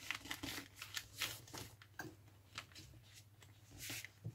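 Paper journal pages are bent and folded by hand, giving soft crinkling rustles and crisp swishes in quick irregular bursts, close and fairly faint.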